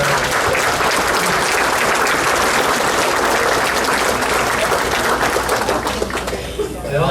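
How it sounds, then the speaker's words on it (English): A crowd at a Vietnam-era veterans recognition event gives a loud, dense round of applause that fills the space for several seconds and thins out near the end, with some voices mixed in beneath the clapping. "So let's give them a round of applause"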